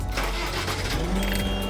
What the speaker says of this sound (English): we can start the machine